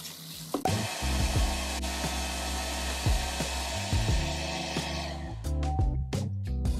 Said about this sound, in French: vous voyez ce qui se passe quand on sèche les cheveux de cette manière